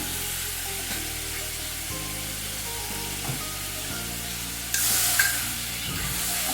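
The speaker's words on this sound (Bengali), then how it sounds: "মশলাটা এবার ভালো করে একটু তেলের মধ্যে নেড়ে নিচ্ছি।" Spices, Kashmiri chilli powder and dried red chillies, sizzling in hot oil while stirred in a pan for a light curry, a continuous close frying hiss with occasional spatula scrapes and a brief louder burst of spitting near the end.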